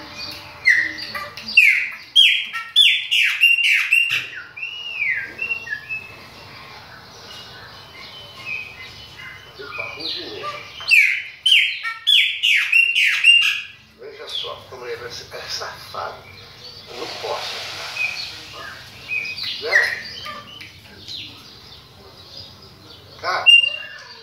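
Caged chopi blackbird singing in bursts of bright, warbling whistles and chirps, close and loud, broken by quieter pauses, with a person speaking at times.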